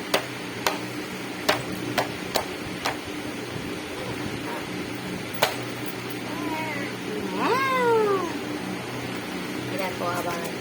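A cat meows in a few rising and falling calls near the end, over a steady indoor hum, after several sharp ticks early on.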